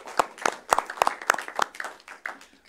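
A few people clap in sparse, uneven bursts, individual claps distinct and close, fading toward the end.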